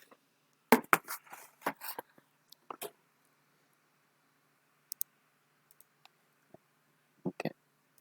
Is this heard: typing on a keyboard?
yes